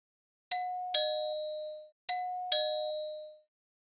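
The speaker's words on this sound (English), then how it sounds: "the doorbell rang again" A two-tone ding-dong doorbell chime rings twice in succession, clear and ringing out with long decays, in otherwise silent surroundings.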